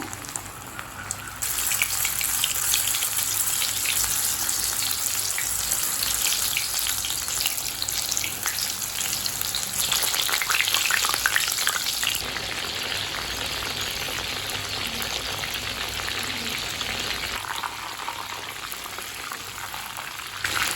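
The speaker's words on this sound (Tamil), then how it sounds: "நம்ம மஷ்ரூம் போட்டு பொரிக்க ஆரம்பிச்சிடலாம்." Loud, steady sizzling and bubbling of mushrooms deep frying in hot oil over a medium flame, continuous throughout with no voices.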